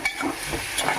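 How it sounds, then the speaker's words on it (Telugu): Ladle stirring carrot fry with curry leaves, turmeric and salt in a pan, a short burst of sizzling with light scraping and stirring swishes, close and steady. "ఒకసారి గరిటె పెట్టి తిప్పుకుందాం"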